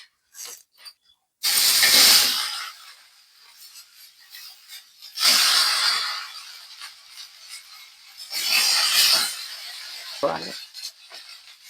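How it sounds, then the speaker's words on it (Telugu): Red chillies frying in oil for a chutney, heard as bursts of loud crackling hiss that rise and fade in three waves, close up, with quiet gaps between them. "ఇలా మిరపకాయలు ఫ్రై చేసుకోవాలన్నమాట నీట్గా"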